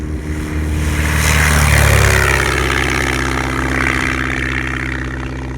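Propeller aircraft droning steadily in formation flight, a loud continuous engine and airscrew hum that swells slightly near the middle then holds, with no voices.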